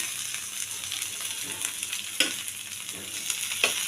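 Wrapped cauliflower paturi parcels fry in mustard oil with a constant hissing sizzle and a couple of sharper pops and spatters as pieces settle, close by and without speech.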